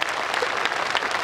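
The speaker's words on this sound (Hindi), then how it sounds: "तब तालियां आपकी आसमान भर चाहिए मुझे अहमदाबाद की।" Short spell of audience applause at a Hindi poetry recital, many hands clapping in a dense, lively patter close by, with no speech over it.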